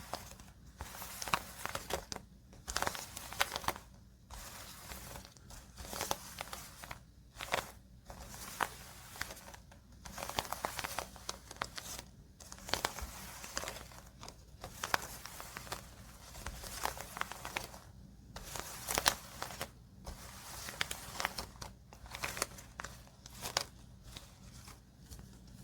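A standard deck of playing cards is shuffled for a solo dungeon-crawling card game, giving repeated close, crisp riffles and papery bursts with short pauses between, soft and intimate.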